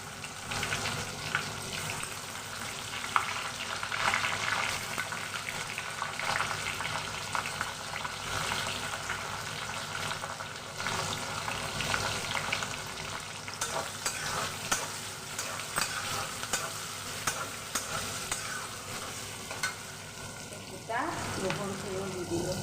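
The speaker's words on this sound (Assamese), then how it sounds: "পিঁয়াজখিনি ভজা ভজা হ'ল।" Onions frying in a pan, a steady close sizzle with occasional stirring scrapes throughout, fairly quiet and with no talk.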